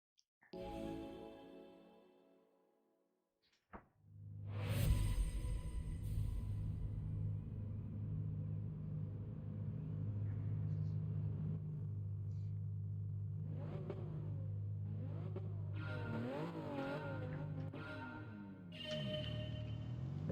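Race cars start a race in the Gran Turismo 7 video game: a short, quiet lead-in, then a sudden, rising roar of many engines revving up, with gear changes and a growing rumble.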